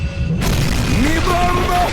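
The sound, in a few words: bomb explosion sound effect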